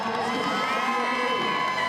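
A loud arena crowd cheers and shouts steadily for a female weightlifter on a second attempt at a 2023 strongman-style invitational, with whoops and children's shouts blending into a continuous roar.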